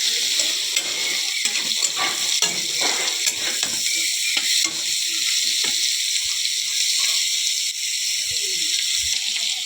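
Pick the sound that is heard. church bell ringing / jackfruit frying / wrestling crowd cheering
jackfruit frying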